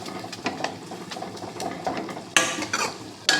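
Drumstick leaves frying in hot oil for a tempering, with soft crackling and sizzle punctuated by the clink and scrape of a stirring spoon against the pan, close and fairly quiet.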